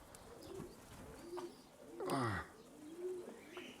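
Young pigeons coo in soft low calls, several scattered across a few seconds with one fuller coo in the middle, nearby but fairly quiet against light background noise.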